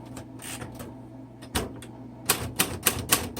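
A 1960 Royal Heritage portable manual typewriter clacks under steady typing, irregular keystrokes at first, then a run of sharp, evenly spaced strikes, close and crisp.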